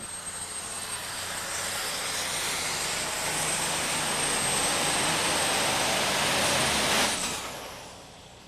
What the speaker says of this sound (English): here he comes, Hans Boxler, the special pulling team, Case IH 7110 Magnum